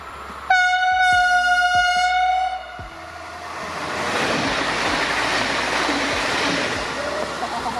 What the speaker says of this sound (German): Das war einfach mal eine S-Bahn Stuttgart